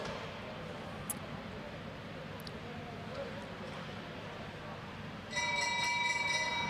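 At a track cycling omnium race at the national championships, an official rings the lap bell. Rapid metallic ringing cuts in near the end over a steady wash of crowd and velodrome noise.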